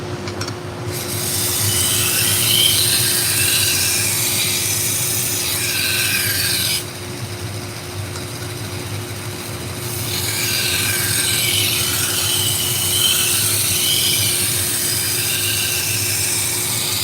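A knife blade dragged repeatedly across a sharpener in long steady grinding strokes, a bright raspy scraping that runs almost continuously with one brief pause, close and loud with no talking.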